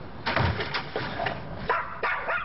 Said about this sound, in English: If someone better get rid of this crazy dog.